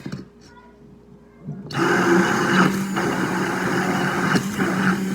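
Homemade mayo with sriracha being mixed in a blender: after a quiet start with faint handling noise, the motor kicks in loud and close, running with a steady whirring roar to the end.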